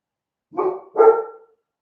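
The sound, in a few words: dog barking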